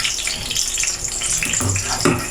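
A coated pork chop hits oil that is not yet fully hot in a pan, giving a steady hissing sizzle, close and moderately loud, with faint bumps of the meat settling in.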